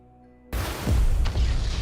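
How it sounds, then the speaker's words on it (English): A single explosion in the tactical RPG Triangle Strategy, a sudden boom that bursts in after silence and settles into a rumbling, crackling tail lasting over a second. "Explosion!"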